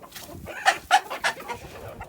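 Malay hens cluck softly close by, a few short throaty calls spaced irregularly over quiet background.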